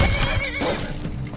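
A horse in Skyrim, wearing armor and beset by wolves, whinnies in a single drawn-out neigh, loud and close, with a faint thud of hooves beneath it.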